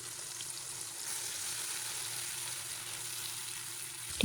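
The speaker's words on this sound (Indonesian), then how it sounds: "Kita tumis bumbu sampai matang dan tanak" Blended spice paste and kaffir lime leaves sauté in hot oil, giving a steady, soft sizzle and crackle for several seconds before a sharp clank of a utensil at the end.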